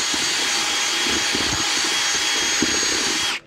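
A drill-driven paddle mixer churns stone veneer mortar mixed with bonding agent in a bucket, a loud steady whirring motor with a gritty slosh underneath. It runs without a break and then cuts off abruptly at the end.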